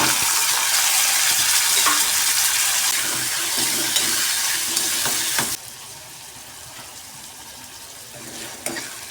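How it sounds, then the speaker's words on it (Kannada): Bitter gourd pieces frying in hot oil until golden, a loud, dense, steady sizzle that drops abruptly to a quieter crackle partway through, with faint stirring clinks near the end. "ಒಂದು 5 ನಿಮಿಷ ಎಣ್ಣೆ ಒಳಗೆ ಫ್ರೈ ಮಾಡ್ಕೊಂಡು ರೀ ಫ್ರೆಂಡ್ಸ್"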